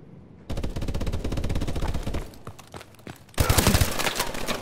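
Video-game gunfire in Call of Duty: Advanced Warfare: a rapid automatic burst of close, evenly spaced shots lasting nearly two seconds, a short lull with scattered pops, then a louder, denser volley to the end.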